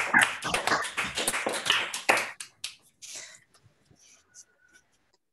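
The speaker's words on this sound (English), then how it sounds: "please unmute yourself and give Abhishek a round of applause" Participants in an online academic seminar clap through their microphones, a brief flurry of close, uneven claps over about two seconds that quickly thins out, followed by faint scattered sounds and near silence.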